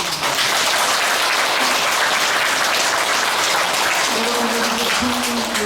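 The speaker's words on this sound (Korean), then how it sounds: "박수 한번 치세요." Loud, sustained applause from a Buddhist Dharma service audience, dense continuous clapping throughout, with a voice faintly audible beneath it toward the end.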